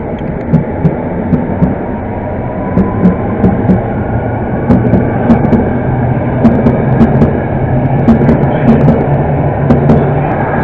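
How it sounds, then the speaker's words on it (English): A London Underground Metropolitan line train rumbles at Pinner station, a loud sustained low drone with repeated sharp clicks and knocks from the wheels running over the track. "Now is Underground Met Line service to Chesham from Baker Street, and also coming is Underground Met Line service from Watford to Baker Street."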